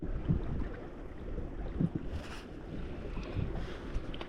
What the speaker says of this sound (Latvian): esam točkā, vējš pūš baigi.